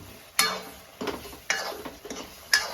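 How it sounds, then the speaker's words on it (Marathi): Chicken fries in a pan at home, a soft steady sizzle punctuated by four sharp spoon-against-pan clinks from stirring, spaced about a second apart. "तळू द्यायचं थोड्या वेळ"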